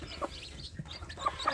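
Newly hatched native village chicks in a box, a few faint, thin peeps scattered over a quiet background.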